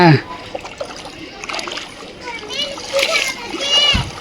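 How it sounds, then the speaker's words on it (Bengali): Children splash and stir water close by on a rooftop, with steady sloshing and bright splatters while kids chatter and shout over it. "পানি ঘাঁটছি আমরা,"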